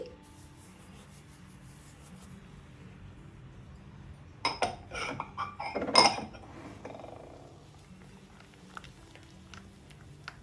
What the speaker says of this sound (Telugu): ఒకసారి మొత్తం కలుపుకొని దీనిలో ఇప్పుడు ఉప్మా రవ్వ తీసుకున్నాం కదా, దాన్ని వేసుకోవాలి.